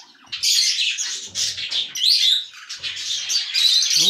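Budgerigars in an aviary at feeding time chirp and chatter busily, with overlapping close tweets and a few sharper squawks in a continuous lively flock sound.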